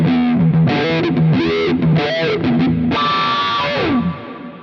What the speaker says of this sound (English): it's the closest thing to an auto wah that's on the device